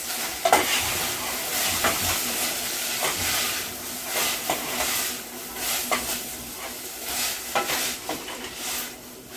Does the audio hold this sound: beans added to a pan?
yes